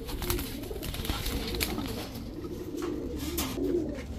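Cooing from a pair of old-breed Pakistani teddy pigeons, big-bodied with round heads and short beaks, a steady low murmur running continuously at close range with no talking.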